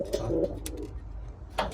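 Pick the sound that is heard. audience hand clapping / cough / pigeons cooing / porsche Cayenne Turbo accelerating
pigeons cooing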